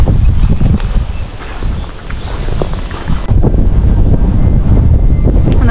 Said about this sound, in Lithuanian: Prie jūros vėjas yra tikrai didesnis, normalu, bet dabar bent jau nelyja.